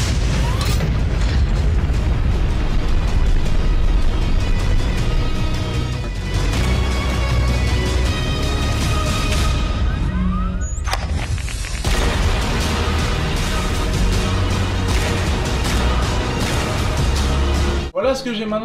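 Gunfire and explosions from a Call of Duty sniper montage hit loud and dense, with repeated booms and sharp shots over a steady backing track and a brief sudden cut near the end.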